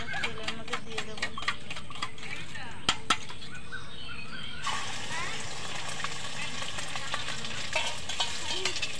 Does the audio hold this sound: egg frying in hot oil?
yes